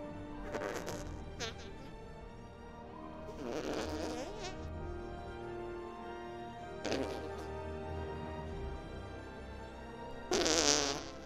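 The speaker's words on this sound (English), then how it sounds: "I'm gonna make with the fart noises" Comic fart noises blown by a performer into a PA microphone during a mock Independence Day speech, several loud spluttering bursts spaced a few seconds apart over a steady background.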